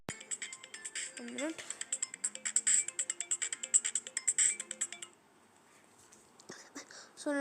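A phone ringtone from an incoming call to a Xiaomi MIUI phone, a repeating electronic melody of rapid pulsed beeps lasting about five seconds, close and clear, with brief voice sounds underneath before it cuts off.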